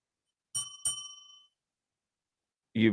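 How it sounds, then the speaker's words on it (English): Two quick bell rings close together, bright and ringing out with a fading tone, followed after a pause by a brief burst of voice. "Ring the bell once you're confident and you ring the bell."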